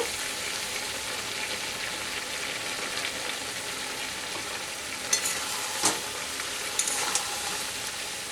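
A vegetable curry with prawns sizzles in a pan at home while being stirred, a continuous close frying hiss broken by a few sharp clinks and scrapes of the spoon against the pan. No one talks.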